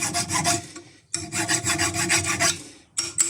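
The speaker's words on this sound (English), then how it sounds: "All I'm doing now is filing around so it's make it nice, and so the sleeve will go over the top." A metal file rasps against a motorcycle kickstand being extended, giving close, loud rhythmic strokes in two bursts with a short pause between, then a final stroke.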